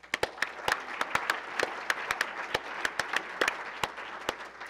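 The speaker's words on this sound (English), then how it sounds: "round of applause for all of them" Audience applause at the launch of the Aloha+ Challenge dashboard in Hawaii, a steady mid-sized clapping crowd with sharp individual claps standing out over a dense wash, sustained evenly for several seconds without talk.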